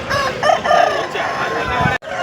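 Roosters crow at a rainy Sunday chicken market in Peeleru, loud close cock-a-doodle-doo calls with clucking over a noisy crowd background.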